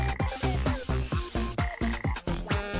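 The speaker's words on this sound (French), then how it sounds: "T'es une gentille petite grenouille." A frog croaks in a rapid run of rhythmic, throaty pulses, close and fairly clear, with a brief pause partway through before the calls resume.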